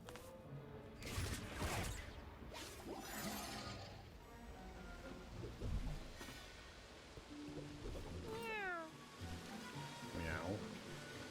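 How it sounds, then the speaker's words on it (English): A cat meows a few times with a rising, wavering call, faint beneath clattering background noise and some talking. "Who's going meow?"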